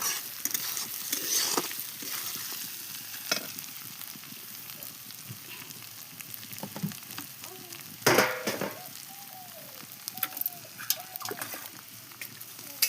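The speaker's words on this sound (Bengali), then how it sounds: "কাঠের জালে রান্না হচ্ছে বন্ধুরা, বুঝতে তো পারছো কতটা স্বাদ হয় কাঠের জালে রান্না।" Curry cooking in a pan over a wood fire, a faint sizzle with scattered stirring clinks and scrapes, and birds calling in the background.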